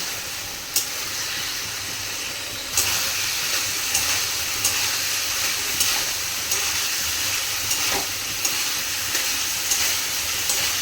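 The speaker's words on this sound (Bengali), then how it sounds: "এক চা চামচ ধনে গুঁড়ো আর দু চা চামচ জিরে গুঁড়ো আর এক চা চামচ হলুদ গুঁড়ো দিয়ে ভালো করে কষিয়ে নেব" Ground coriander, cumin and turmeric fry in a pan for a vegetarian chickpea ghugni, producing a steady, close sizzling hiss broken by occasional sharp clicks of stirring.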